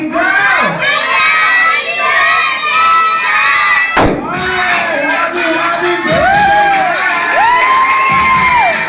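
A crowd of children at a birthday party shouts and cheers together loudly and close by, a sustained burst of overlapping voices with whoops rising above it.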